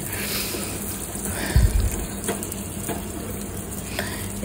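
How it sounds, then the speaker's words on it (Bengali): Almonds, cashews and raisins frying in a little ghee for suji halwa: a steady sizzle with a brief louder stirring scrape partway through. "এই যে এখানে আমি সামান্য ঘি দিয়ে একটু কাঠবাদাম, কাজু বাদাম, কিশমিশ এগুলি একটু ঘিয়ে ভেজে নিচ্ছি"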